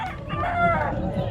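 Chickens and roosters at a crowded pet market, with a rooster crowing and clucking close by over busy background bustle.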